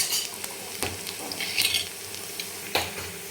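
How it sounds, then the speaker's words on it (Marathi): Curry leaves sautéed in a pan, crackling with a steady sizzle while a spoon scrapes and stirs, marked by a few sharp clinks of metal against the pan, close and clear with no talking. "कढीपत्त्याला पण चांगलं मिनिटभर आपण परतून घेणार आहे छान सुगंध सुटेपर्यंत।"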